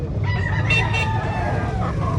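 A rooster crows at a chicken expo in a Cebu City public market, one strained call that rises and falls over about two seconds above a steady low crowd rumble.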